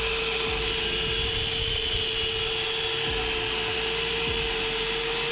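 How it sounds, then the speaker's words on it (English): A power tool cutting a metal strip at an angle for a minibike mount, a steady loud high whine with a low droning hum underneath, running continuously and ending abruptly, with no talking. "I will mark this metal here and cut it at that angle."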